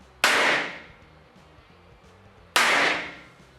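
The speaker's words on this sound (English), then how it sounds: "Let's see what happens when we hit them each with a pick hammer." Two sharp metallic strikes from a pick hammer hitting painted and powder-coated metal panels, each a loud clang with a ringing decay, spaced about two seconds apart.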